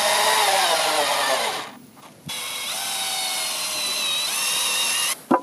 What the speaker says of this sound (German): Das schrauben wir jetzt zusammen